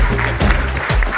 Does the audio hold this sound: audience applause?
yes